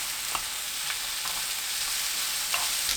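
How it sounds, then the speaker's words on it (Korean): Cooked duck meat stir-fries in a soy-based seasoning as the sauce reduces, a loud continuous hiss of frying with occasional soft scrapes of stirring. "양념이 겉돌지 않도록 바짝 졸이면서 볶습니다."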